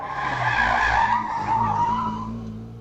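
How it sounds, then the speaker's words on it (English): A small Daihatsu racing car climbs the hill at a Wiscombe Park hillclimb, its engine note rising and falling as it approaches, loud and close before fading slightly at the end. "As it comes up the hill, we can hear it coming."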